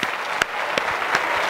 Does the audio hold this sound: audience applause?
yes